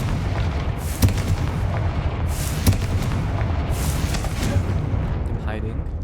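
Repeated booming blasts from the Confringo fire spell in the video game Hogwarts Legacy, several sharp explosive hits spaced a second or so apart over ongoing game rumble, with a voice briefly heard.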